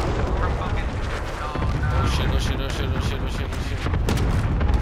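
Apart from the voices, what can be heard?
cluster airstrike explosions in a video game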